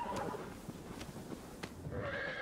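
A horse neighs and whinnies in the Shadow of the Colossus video game, a short close call with hoof clip-clops mixed in and no talking.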